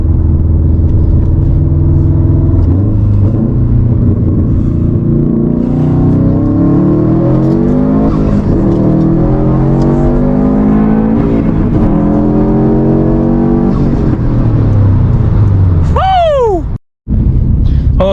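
A 500 hp Subaru WRX STI running on E85 at 24 pounds of boost accelerates hard with a loud, rising engine roar and repeated climbs through the gears, ending in a sharp high whine and an abrupt cutout.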